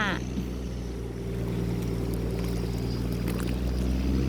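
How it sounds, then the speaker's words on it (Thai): Engine of a cargo barge boat with a long steel frame, passing on a windy river, gives a steady low drone throughout. Wind noise rushes over it and there is no talk. "มีโครงเหล็กมาน่าจะเป็นเรือบรรทุก"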